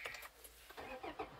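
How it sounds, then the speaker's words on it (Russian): A 2022 Toyota Fortuner with a 2.8-litre 200 hp diesel, four-wheel drive and automatic gearbox, started by push button: a short, quiet crank and catch as the engine fires up, heard faintly inside the cabin. "Включим зажигание автомобиля с помощью кнопки «Старт-стоп»."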